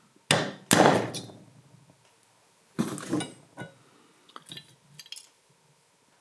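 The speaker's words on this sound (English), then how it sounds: "we'll see if we can knock this little guy out with our favorite little 2-pound hammer" Several sharp metallic blows from a 2-pound hammer knocking out a part on a John Deere 755, two loud strikes close together, then a few lighter taps with pauses between them.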